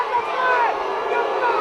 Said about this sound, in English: as the boos pour in.